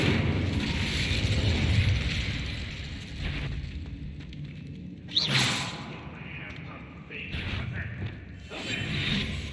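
Burning Incendio spell effects in the Hogwarts Legacy video game: an opening roar of fire, then a sharp whooshing flare midway and smaller bursts, with muffled game ambience between.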